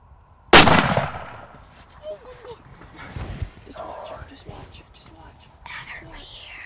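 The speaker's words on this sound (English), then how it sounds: "The shot goes off, and I can't tell in real time what happened." A rifle shot fired at a deer during an Oklahoma hunt cracks out once, loud and sudden, then decays into quiet outdoor ambience with faint rustling and low whispering.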